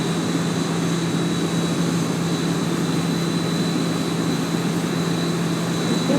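Airliner engines idling as the jet taxis toward the runway in a flight simulator game, a constant close hum and whine with a steady high tone, with no talking.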